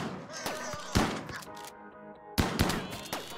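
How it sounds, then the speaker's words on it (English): Heavy booming shots from the Diabolus's passive cannon in RimWorld, two loud blasts about a second and a half apart, each ringing out over a sustained game music bed. "the Diabolus has sort of like a passive cannon that it fires at"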